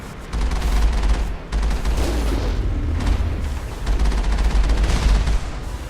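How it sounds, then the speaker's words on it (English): Geth rockets firing in Mass Effect, part of a dense, loud barrage of booming blasts and rattling gunfire with heavy low rumble and brief gaps, with no talk. "Oh, Geth rockets."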